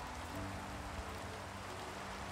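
Steady rain falling in the video game Minecraft, a continuous soft hiss of drops with no pauses, fairly faint and even throughout, heard alone with no voices.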